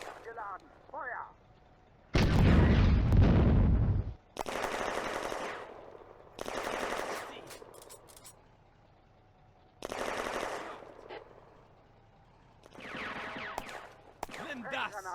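Tank gun firing incendiary shells in the Firefight video game, Eastern Front 1941 city battle: several loud booming blasts with rumbling decay, spaced a few seconds apart, separated by short German voice commands.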